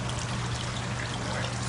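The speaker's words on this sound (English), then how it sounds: "Could you like empty out the pitcher thing over there and fill it with water again?" Water pours steadily from a pitcher in an aquaponics setup, a continuous, close splashing rush with no pauses.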